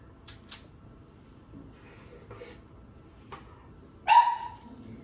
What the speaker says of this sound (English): you will hear my dog Ava barking in the background